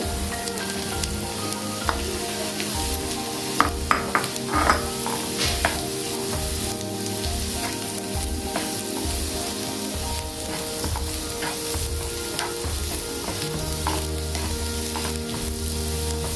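Potatoes fry in steady sizzling oil in a pan, with occasional scraping and stirring clinks, continuous and fairly close, no talking.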